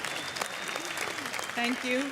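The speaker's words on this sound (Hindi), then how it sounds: "जोरदार तालियां एक बार।" Audience applause at a Bollywood awards show as an actress accepts her award, a steady wash of clapping throughout with someone speaking briefly over it near the end.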